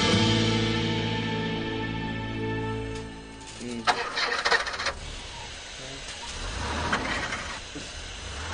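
A car engine cranks and turns over after a sustained humming tone, then a rough rumble builds toward the end.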